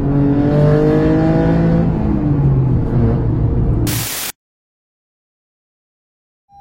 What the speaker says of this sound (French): Ça fait plaisir de pouvoir monter à 7000 tours.